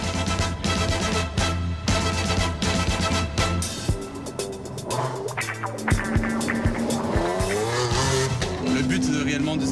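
A 680-horsepower luxury sports car engine roars and shifts through gears, pitch climbing and dropping as it accelerates nearby, with tire squeal and faint talk.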